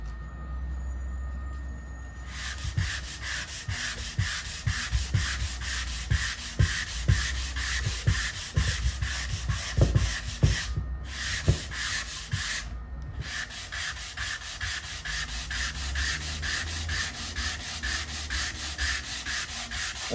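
Steady, continuous hand sanding of a wooden Les Paul-style guitar body with sandpaper, going with the grain, with rhythmic strokes and a constant high hiss throughout, close and moderately loud.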